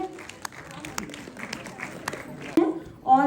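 Scattered claps from an audience at an award ceremony patter irregularly, fairly faint and thinning out, with a voice breaking in near the end.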